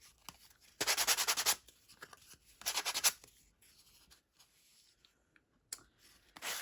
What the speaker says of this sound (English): I see a little glue hanging on, so I'm just gonna sand it a little bit.